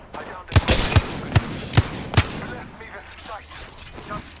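Gunfire in the battle game Apex Legends: five sharp shots spaced roughly evenly over two seconds, fairly close, followed by fainter scattered noise and a low voice.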